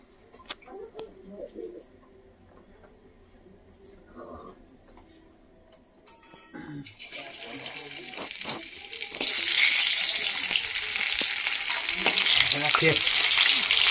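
Oil hits a hot pan for a crab recipe after freshly caught crabs are cleaned, breaking into a loud, steady hiss and crackle that swells from about seven seconds on, following quieter clattering and faint voices.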